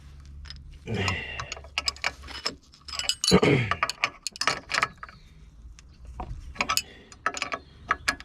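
Close metallic ratcheting and clicking of a wrench tightening bolts on the front pivot arm of a Peugeot 407, in irregular short bursts with clinks of tools.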